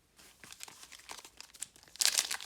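A Pokémon card booster pack is torn open with crinkly foil rustles and tearing, quiet and close, building to a louder rip near the end.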